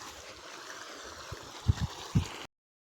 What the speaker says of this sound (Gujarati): જો અહીંયા પાણી આવે છે